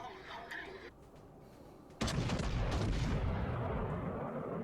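A battleship's big guns firing shells in World of Warships: Legends, with one sudden heavy boom that leaves a loud, sustained rumble. Talking comes before the blast.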